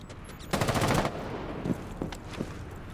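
Gunfire sounds in a competitive shooter game, with a fast burst of automatic fire followed by a few scattered single shots, loud and close.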